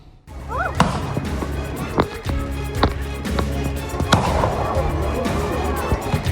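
Firecrackers go off one after another in a street brawl between two groups of youths at a public cemetery in Makassar, South Sulawesi. The sharp, loud bangs come at irregular intervals over a constant rumble of crowd noise.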